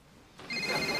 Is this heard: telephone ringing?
yes